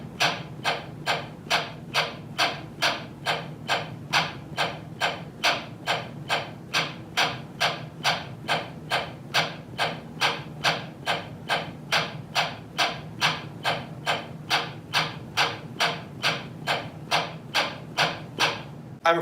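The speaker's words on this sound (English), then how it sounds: "I am playing the right stick in the center of the pad and I'm playing the left stick closer to the rim." Two drumsticks alternate on a practice pad, the right stick striking the center and the left near the rim, in a steady even stream of crisp close taps that runs unbroken without any talking.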